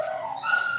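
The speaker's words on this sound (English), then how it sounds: "Somebody opened the door back there again. They all start barking when that happens." Several dogs in a back room react as a door opens, giving short whining, yipping barks that blend together at a steady moderate level, somewhat muffled at a distance.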